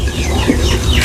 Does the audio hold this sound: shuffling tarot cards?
no